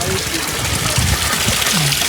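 Cold mountain water trickles and splashes continuously at a busy roadside stop on the way to Kumrat Valley, a steady close wash of running water with faint voices underneath.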